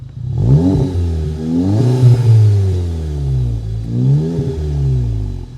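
A car engine revs up and settles back twice, its custom exhaust giving a deep, loud rumble with pops at close range.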